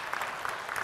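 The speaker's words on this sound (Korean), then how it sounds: "박수." A church congregation gives a short burst of clapping during a sermon, soft and somewhat distant, with a few distinct claps standing out in under a second.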